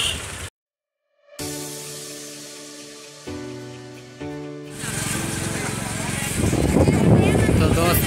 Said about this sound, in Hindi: तो हम फिलहाल बाइक पर है, तो इसलिए बाइक से जा रहे हैं।